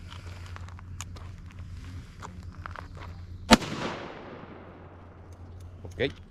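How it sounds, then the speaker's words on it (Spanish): A single sharp, loud blast from a Mossberg 590 Shockwave shotgun booms out mid-clip and rings off into a fading tail, with a fainter knock shortly after and low background hum. "voy ahora a hacer un disparo"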